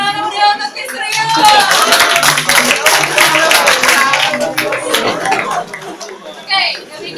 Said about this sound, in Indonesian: Tepuk tangan meriah untuk Miss Rio.